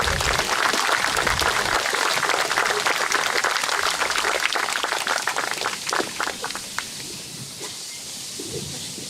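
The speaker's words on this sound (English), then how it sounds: "Give him a round of applause again, ladies and gentlemen." Dense, sustained audience applause fills a Vietnam Veterans Day celebration hall, loud and continuous before gradually thinning and fading toward the end, with no voices on top.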